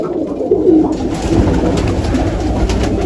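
A large pigeon coos softly while being held in the hand, low rolling calls repeated a few times beneath steady close handling noise and rustling.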